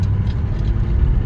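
An old Buick diesel engine runs after a cold start, settling down from high idle into a loud, steady low rumble heard from inside the car, with no talking.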